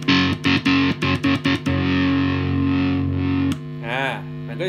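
An Edward Sugizo Signature electric guitar with its distortion engaged is chopped rhythmically on and off by a kill switch, giving a series of stuttering bursts. A sustained distorted chord follows, then a brief cut and a warbling, wavering tone.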